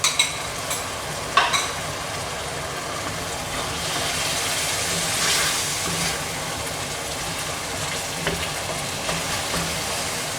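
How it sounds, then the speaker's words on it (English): Meat filling for empanadas with raisins and chopped black olives simmers and sizzles in a pan, a steady close bubbling hiss with a few light stirring scrapes, no voices. "Cook this until the sauce thicken a little bit more, about 5 minutes."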